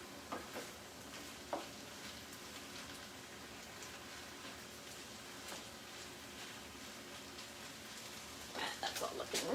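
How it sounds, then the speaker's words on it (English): Food being stirred in a hot pan while empanadas are cooked: steady sizzling and scraping, with a few sharp knocks and a busier clatter of stirring toward the end. "let me give this a stir"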